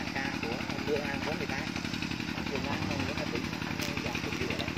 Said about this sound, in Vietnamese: Cái chỗ đang nổ máy này là của anh hả?